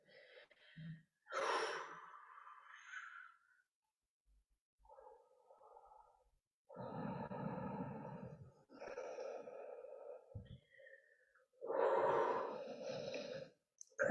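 Deep breathing during a beginner floor yoga stretch: several slow, close inhales and long exhales separated by quiet pauses, some breathy and rasping, with no speech.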